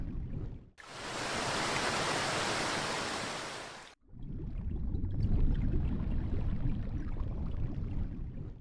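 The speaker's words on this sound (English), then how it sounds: "The white waterfall pours down from the high cliffs." A white waterfall pours down high cliffs in a northern forest, a dense, steady roar of falling water that breaks off briefly, then returns as a lower, heavier rushing sound.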